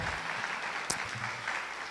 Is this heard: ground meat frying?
no